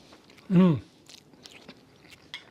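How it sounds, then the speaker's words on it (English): Someone eats a forkful of pasta alla puttanesca, with soft, close chewing and mouth noises after a short voiced sound of appreciation. "let's give this a taste test and see what this tastes like"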